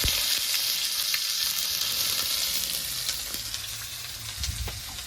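Chopped onions sizzle steadily in hot oil with dried red chillies, bay leaves and mustard seeds, with a close, continuous frying hiss and occasional stirring scrapes and soft pops.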